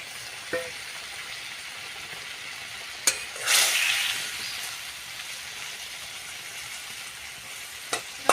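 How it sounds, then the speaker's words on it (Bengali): Pre-fried potatoes go into a pan of cooked-down spice masala with a little water, giving a soft continuous sizzle, a loud hissing burst as they land, and a few sharp spoon knocks, close and without speech. "আমি ভেজে রাখা আলুগুলো এবার দিয়ে দিচ্ছি"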